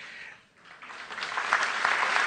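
Audience applause at a François Bayrou political speech during the MoDem summer university event. It dips briefly, then swells into steady, dense clapping that grows louder.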